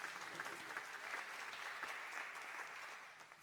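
A theater audience at a live storytelling mainstage event applauds steadily, a dense wash of clapping that holds strong for about three seconds before starting to thin out.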